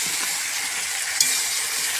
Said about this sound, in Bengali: কত বড়ো কড়াইতে রান্না হচ্ছে বুঝতেই পারছো।